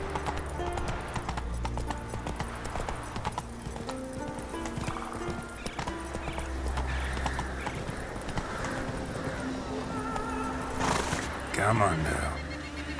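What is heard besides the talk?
horse Roach hooves and neigh in video game The Witcher 3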